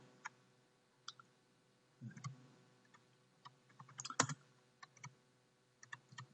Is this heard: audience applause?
no